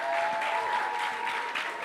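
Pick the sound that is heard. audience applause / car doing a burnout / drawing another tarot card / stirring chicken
audience applause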